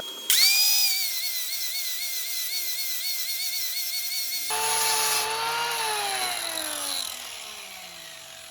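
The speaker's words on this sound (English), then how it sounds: "So now I'm going to grind that down and maybe go over it again." An angle grinder grinds down a weld on the exhaust silencer of a Triumph Bobber, a loud, steady metallic whine that starts abruptly, holds, then shifts pitch partway through as the disc bears into the metal, with no talk.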